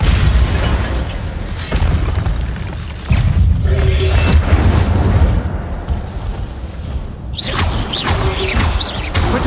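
Fire spell cast in the Hogwarts video game, heard as a run of heavy, rumbling booms and bursts with a roaring low end, surging and dropping over several seconds and ending in brighter crackling flares.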